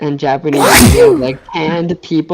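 A single sharp sneeze bursts out mid-conversation, loud and close, with people chatting right before and after it.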